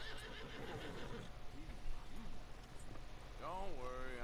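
A horse in Red Dead Redemption 2 lets out a loud, rising whinny near the end, after a stretch of low rumbling and faint hoof clops, with someone talking throughout.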